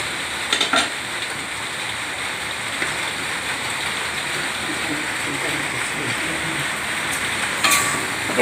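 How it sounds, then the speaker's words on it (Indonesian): Spicy squid woku sauce with sliced leeks bubbling and sizzling steadily in a pan, a continuous close crackling hiss with a few brief clinks. "kita biarkan mendidih"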